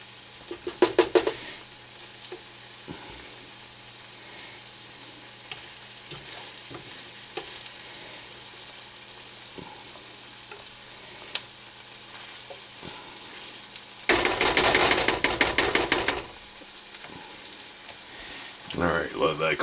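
Scallops sizzling gently in a pan over low heat, a soft continuous frying hiss with occasional pops, interrupted by a louder burst of sizzling and stirring near the end.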